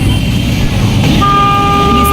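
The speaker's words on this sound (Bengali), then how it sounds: "লঞ্চটা কোথায় বসে হর্ন দিতেছে আর এই জায়গায় শুনাইতেছে" A passenger launch (ferry) horn sounds from far away, entering about halfway through as a steady, sustained tone over a constant wash of outdoor background noise.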